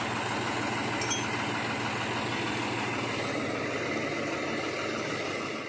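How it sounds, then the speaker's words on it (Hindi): A farm tractor engine runs at a steady idle, a continuous low diesel rumble with even throb, close and constant for several seconds with no speech. "ट्रैक्टर शुरू हो गया है।"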